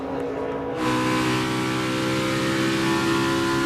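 A NASCAR stock car engine roars up to speed during pole qualifying at the Coke Zero Sugar 400, rising suddenly to a loud, steady, high-revving drone that carries on strongly with no voices over it.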